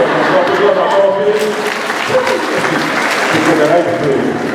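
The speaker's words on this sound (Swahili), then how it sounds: "Kwa makofi." A church congregation at a Holy Mass at St. Mary's Parish, Ongata Rongai, claps in a steady, dense wash that fills the hall and runs throughout, with voices mixed in the crowd.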